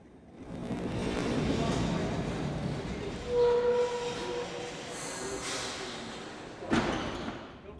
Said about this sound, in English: As the tram makes her way around the loop